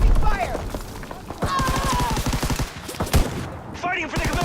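Video game battle gunfire: bursts of automatic fire and single shots crack in rapid, uneven volleys with a sharp close report near the middle, while shouted voices carry over the fighting.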